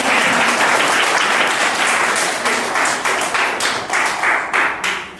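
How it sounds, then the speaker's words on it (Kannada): An audience at a yoga centre's first anniversary event breaks into loud, dense applause that fills the room, then thins into scattered, uneven clapping toward the end. "ಜೋರಾದ ಚಪ್ಪಾಳೆಯನ್ನು."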